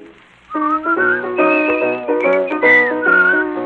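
A man whistles a lilting melody, clear and close, with sustained notes and slides running continuously after a brief quiet start.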